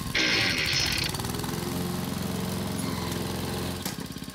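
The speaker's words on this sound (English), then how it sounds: "I'm mowing the grass for Mimi's party." A cartoon lawn mower cutting grass, its engine running as a continuous buzzing drone with a sharp high whine at the start, steady for several seconds before a brief clunk near the end.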